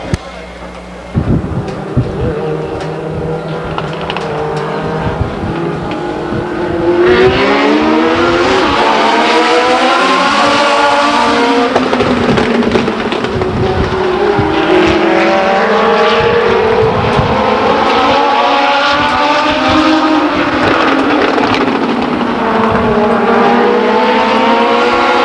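Race cars at Stockton 99 Speedway thunder past in a loud, continuous roar with rising and falling engine pitch, while an announcer speaks over the noise.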